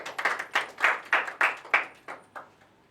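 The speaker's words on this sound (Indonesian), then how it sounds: "Tepuk tangan dong buat kelompok 1." A small group in a classroom session claps about nine separate, slightly uneven beats, each sharp and close, tapering off in loudness toward the end.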